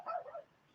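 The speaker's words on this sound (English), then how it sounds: "That is my dog downstairs barking at something." Dog barking downstairs gives a single short, faint, muffled bark, heard from a distance in a quiet room.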